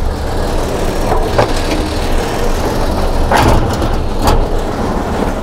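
A 1952 ZiS MMZ-585 dump truck engine runs after two years standing idle, a loud, steady close-range rumble with a couple of brief knocks or rattles over it and no voices.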